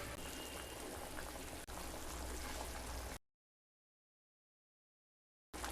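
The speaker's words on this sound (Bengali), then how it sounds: "এবার ফুটে আসা পর্যন্ত অপেক্ষা করব।" Fish curry bubbling in a pot, a close, steady boiling hiss and gurgle for about three seconds before cutting to silence, then returning briefly at the end.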